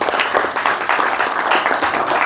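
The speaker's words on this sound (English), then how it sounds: "Give them applause" Applause from a temple gathering at ISKCON Boston, a short, dense burst of clapping that stays even and fairly loud throughout.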